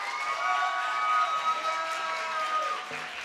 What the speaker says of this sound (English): Give a round of applause if you love the answers of City Council Position 8 candidate Teresa Mosqueda